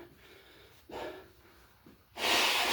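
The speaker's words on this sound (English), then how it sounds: "Hate blowing my nose on camera." A person blows their nose during a two-handed saber practice session: soft breathy snorts, then a loud, hissing blast into a tissue at the end, close and otherwise quiet.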